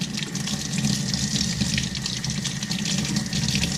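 Tomato seeds are rinsed in a strainer under running tap water, a steady close splashing rush that continues without a break.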